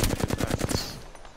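Rapid automatic gunfire in a first-person shooter video game, a tight burst of about eight evenly spaced loud shots close up, then a short decaying tail.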